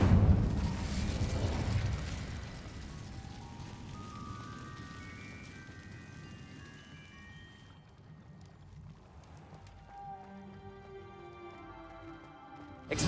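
A magical Incendio fire spell from Hogwarts Legacy bursts with a loud fiery whoosh at the start, then fades into a crackling roar that trails away, followed by a fainter shimmering magical tail near the end.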